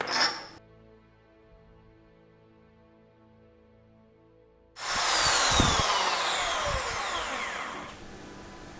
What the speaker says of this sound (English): I'm going to work up through drill bit sizes so as not to cause too much damage to the wood